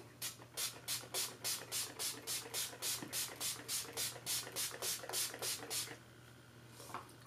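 Urban Decay All Nighter setting spray misted onto a face in about sixteen quick, evenly spaced hissing spritzes, fairly faint and close, with a low steady hum beneath and no talking.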